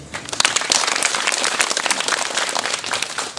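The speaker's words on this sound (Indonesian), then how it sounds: "Tepuk tangan." Audience applause at an Islamic religious lecture, a crowd clapping densely and steadily for a few seconds, close and fairly loud with no talk over it.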